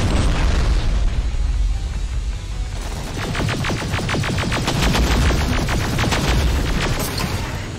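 Grenade explosions in the shooter game Terminator Resistance, a heavy boom followed by a rapid, crackling fusillade of bursts and pops, loud and close.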